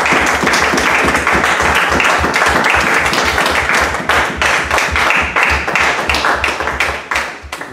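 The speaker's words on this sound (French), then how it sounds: "Une main d'acclamation à notre Dieu." Loud, sustained applause and clapping from a congregation at a church service, dense and continuous throughout before tapering slightly near the end.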